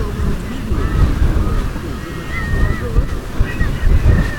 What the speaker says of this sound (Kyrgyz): Катуу шамал болуп атат